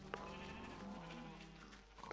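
Minecraft sheep bleating in the game, a short wavering bleat in the middle of a quiet, steady backdrop of low game ambience.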